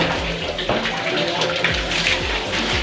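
Water runs steadily while a toilet is being cleaned, a dense continuous splashing rush with a low rhythmic undertone, close and loud throughout.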